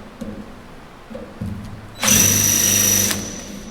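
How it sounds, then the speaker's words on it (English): Power drill fitted with a dull bit boring into a part of a 45-year-old John Deere combine: a few brief motor blips, then one loud sustained whine lasting about a second before stopping. "Oh boy, I think I picked the dullest drill bit in the world for this part."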